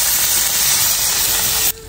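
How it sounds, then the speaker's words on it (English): Bacon strips going into a hot pan, a loud close crackling sizzle with dense hiss that runs steadily and then drops off abruptly near the end. "Listen to this sizzle."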